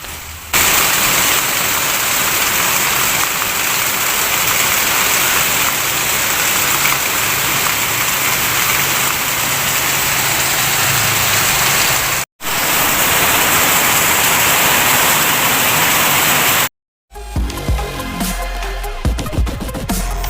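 Steady, dense rain pours down loudly and continuously, broken by two brief silences, with a different patter of drops near the end.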